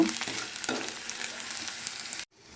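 Sprouted fenugreek seeds and masala ingredients fry in a pan until browned, giving a soft, close sizzle with light stirring clicks that cuts off abruptly near the end.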